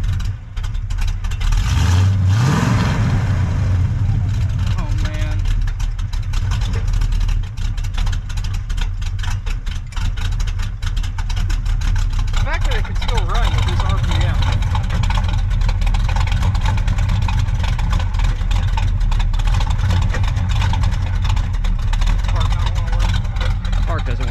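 Old barn-find car engine fitted with Turbo Two mufflers, started and left running: a loud, steady low rumble that holds through the clip, with a brief rev near the start and people talking over it.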